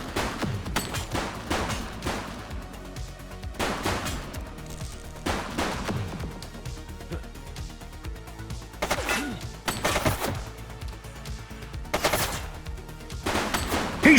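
Gunfire in the police video game The Precinct, repeated sharp loud shots in irregular bursts spread across the span, with crashes and impacts between them and no talk.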